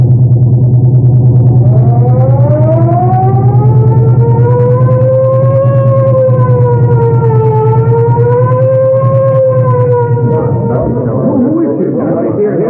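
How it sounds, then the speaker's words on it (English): A police car siren from an old-time radio drama rises and wails in long, slow, undulating sweeps over a loud, steady engine-like hum, filling the foreground before a clatter of other noise near the end. "I'll crack the siren"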